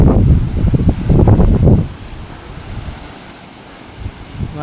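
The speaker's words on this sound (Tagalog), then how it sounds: "Tuloy-tuloy pa rin ang malakas ng hangin at ang alon." Typhoon Uwan's strong wind and pounding waves at night heard from a rooftop in the Philippines, loud buffeting gusts and surf roar that ease into a lower steady rush.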